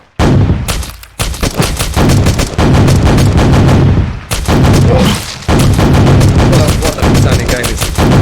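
Gunshot effects from a Unity video game fire in loud, dense bursts, close and almost continuous, with a few short gaps between volleys.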